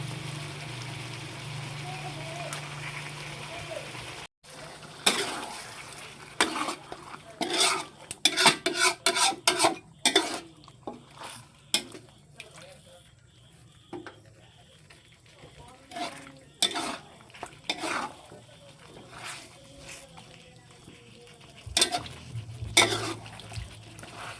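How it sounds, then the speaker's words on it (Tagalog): A utensil scrapes and clinks against a pan as chicken menudo is stirred after tomato sauce goes in, with intermittent knocks and scraping strokes spread over the stretch and a voice talking at times. "Lagyan ko na po ng tomato sauce"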